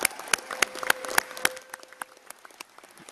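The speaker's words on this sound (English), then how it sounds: "so give them a round of applause" Scattered applause for women chiefs at a First Nations assembly: sharp separate claps that are strong at first, then thin out and grow fainter toward the end.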